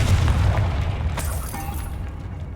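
A Confringo blasting spell goes off in Hogwarts Legacy, a loud low boom at the start that rumbles and slowly fades over a few seconds, with no talk over it.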